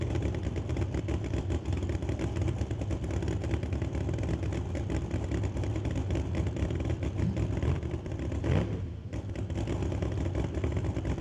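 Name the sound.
1969 Camaro drag race car engine on the starting line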